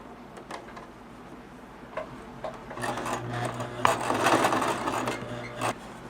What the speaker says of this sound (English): we use a different colored thread so you will see how the machine stitching is run around the buttonhole line